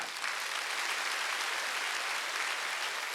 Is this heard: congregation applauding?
yes